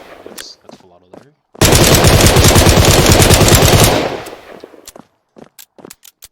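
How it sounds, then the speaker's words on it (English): A long, loud full-auto burst of rapid gunfire rattles for about two seconds in a UE4 open world shooter game, with a few sharp clicks and a short voice before and after. "That's full auto there."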